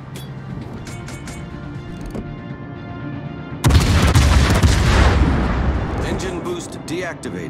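Naval artillery fire on a designated target in a warship video game: a loud, close burst of heavy gunfire rolls in partway through and decays into a sustained rumble.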